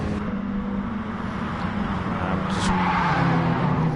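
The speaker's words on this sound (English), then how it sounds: "Sparks just Tokyo drifts it around turn 2, and they ended up side by side" Tires of a Mini Cooper squealing as it drifts through a corner in the racing game GT Sport, a steady engine drone with a brief high screech, loud and continuous.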